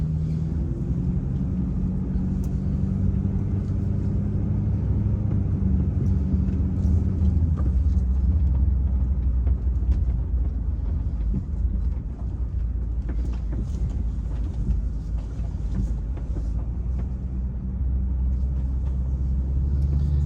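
A car driving slowly through a busy scrap yard, a steady low engine and road rumble that runs the whole time, fairly loud and close, with no voices.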